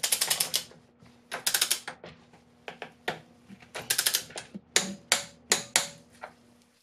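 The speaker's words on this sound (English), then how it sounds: "To tighten the 14 millimeter top nut, the torque spec is 22 foot-pounds." Wrench work on a 14 mm strut top nut during a front Sachs strut installation on a 1999 Acura RL: a series of close, sharp metallic clicks and ratcheting bursts in uneven clusters, with no talking.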